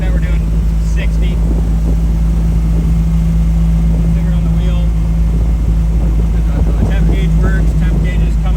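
A 1972 Dodge Dart Swinger cruising down the road at speed, heard from inside as a loud steady low rumble with a constant engine hum and wind noise, unchanging throughout.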